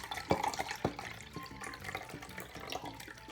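Water being poured from a tap or vessel onto one measured cup of rice in a container, heard as short splashy gushes and trickles in uneven bursts, fairly close and quiet, with no talking.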